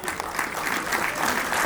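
Loud, sustained applause at an ITI Jamnagar skill honour award ceremony in 2025, many hands clapping steadily at an even level, with no voice standing out.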